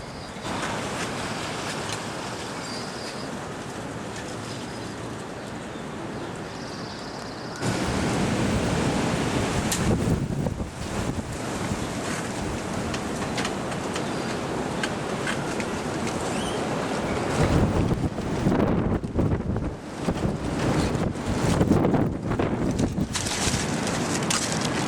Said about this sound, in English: still windy as heck out there